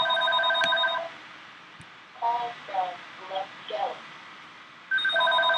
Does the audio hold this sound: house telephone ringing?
yes